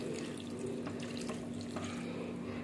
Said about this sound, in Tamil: அடுத்து தேவையான அளவு தண்ணி ஊற்றி மூடி வச்சிடலாம்.